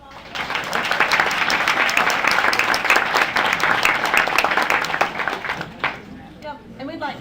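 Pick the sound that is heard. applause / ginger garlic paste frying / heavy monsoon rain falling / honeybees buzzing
applause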